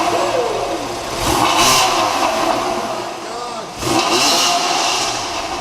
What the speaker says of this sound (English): That exhaust is insane.